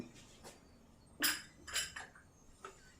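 A metal lid set down on a cooking pot of upma, a sharp clink at about 1.2 seconds followed by a few lighter clatters, close by and fairly faint, with no talk.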